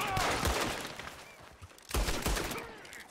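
Gunfire in Red Dead Redemption 2, heard as two sharp bursts of shots about a second and a half apart, each fading out quickly, at moderate level.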